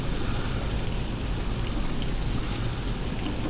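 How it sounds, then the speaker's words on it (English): Rain falls hard as hail dies down during a storm, a dense, steady patter and hiss that is continuous and fairly close throughout, with no voices. "it's beginning to rain a lot harder"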